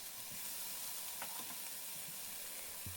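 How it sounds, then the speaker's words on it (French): Onions, carrots and peppers sauté in oil in a pan alongside beef liver, giving a continuous soft sizzle and hiss with faint stirring clicks, heard close and fairly quiet. "et un peu d'huile pour sauter le tout"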